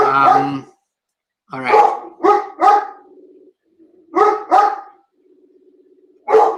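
A dog barking in a home during a lecture, several loud close woofs in pairs with soft whimpering between them, plus a brief spoken phrase.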